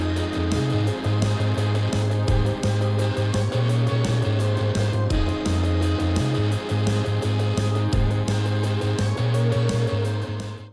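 Full instrumental of a home-made indie rock song, with a dense mix of guitars, bass and driving drums, loud and continuous throughout with no voices.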